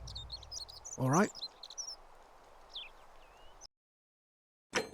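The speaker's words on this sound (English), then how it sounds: "These birds are way too loud." Birds chirp and tweet loudly outdoors in high, quick bursts scattered through the scene, with a brief spoken voice partway in before the sound cuts out and resumes.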